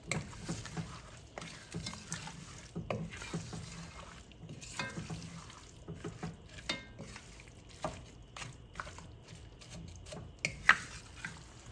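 A spoon stirs daal ghosht ingredients in a pot, giving a steady run of scraping and soft sloshing clinks with occasional sharper knocks, close and fairly quiet, no talking.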